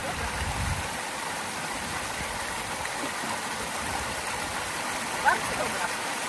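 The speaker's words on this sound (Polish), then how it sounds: "natknęliśmy się na taki niewielki wodospad, właściwie taką kaskadę" Small waterfall cascade on a Lake District stream gives a constant broadband rushing of water at close range, steady throughout, with one brief faint click near the end.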